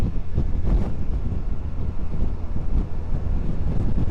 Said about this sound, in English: it's very, very windy day